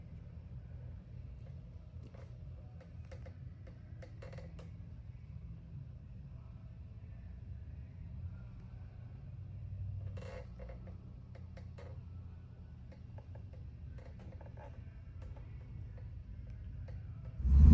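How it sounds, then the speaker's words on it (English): A 1969 Chevrolet Camaro RS Z/28 with a numbers-matching 302 V8 and 4-speed idles with a low, steady rumble, scattered ticks and clicks over it, growing louder at the very end. "we're going to take this 1969 Chevrolet Camaro RS Z 28 with the 302 numbers matching with that 4-speed for a test drive"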